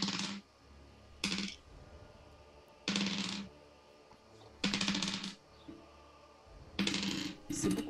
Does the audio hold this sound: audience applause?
no